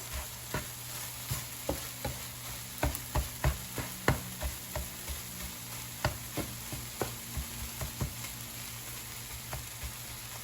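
Tomato and egg stir fry sizzling in a frying pan, a steady quiet hiss broken by regular clicks and scrapes of a utensil stirring roughly every half second.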